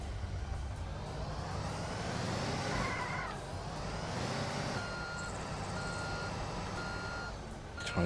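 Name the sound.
truck reversing beeps in video game Construction Simulator 2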